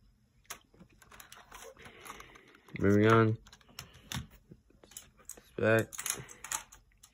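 Office computer keyboard typing in quick, scattered clicks at moderate distance, with a voice briefly speaking over it twice.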